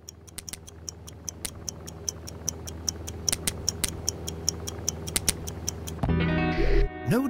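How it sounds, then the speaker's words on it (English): A time bomb in the video game I Expect You To Die ticks in a steady, sharp rhythm, close and clear, until a louder burst of noise cuts over it near the end. "Ha! The old ticking bomb."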